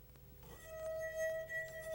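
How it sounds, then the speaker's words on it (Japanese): A wine glass with water in it is rung, giving a single clear sustained tone that rings steadily and softly for over a second after a faint initial tap, with no talk. "それじゃあグラスの中に水を入れて鳴らしてみよう"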